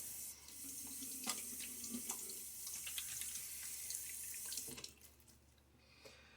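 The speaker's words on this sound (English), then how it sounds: "Splash of water." Tap water splashes and runs into a sink during a wet shave between razor passes, a steady close wash with a few sharper splashes, fading slightly toward the end.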